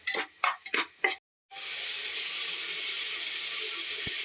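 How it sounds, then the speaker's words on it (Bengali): Steady broadband sizzle of spices frying in a pan for a vegetarian chana (chickpea) curry, starting after a brief pause and holding even and fairly loud to the end, following a few short clattering stirs. "তারপর এগুলো ভালো করে আমি ভেজে নেব।"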